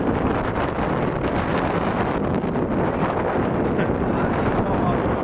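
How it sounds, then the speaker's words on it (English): Steady, heavy wind buffeting the microphone, a loud continuous roar and rumble that persists throughout without letting up. "It's windy."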